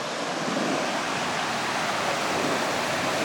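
Steady rushing water from Lytle Creek, California, fills the clip, a continuous broadband flow like a small cascade, close and even throughout.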